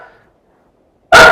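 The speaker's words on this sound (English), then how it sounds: "barking" A dog lets out a single loud, close bark that breaks in suddenly after near silence and a faint earlier sound.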